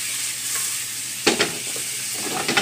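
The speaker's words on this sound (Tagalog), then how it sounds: "Gisa mo lang ng gisa. Pagkatapos nyan, ilagay mo na yung karne." Pork kasim sautéing in a pan, a steady close hiss of frying with brief clattering stirs partway through and again near the end.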